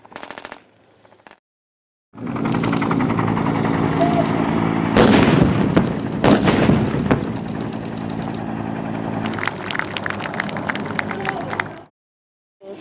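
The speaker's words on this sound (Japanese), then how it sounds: "155ミリ榴弾砲などが爆音とともに空砲を発射しました" Blank rounds fired from 155 mm howitzers and other guns during an outdoor military combat drill at a Ground Self-Defense Force camp in Higashine, Yamagata, giving loud booming blasts and sharp cracks over a sustained rumble, with distant crowd noise in the background.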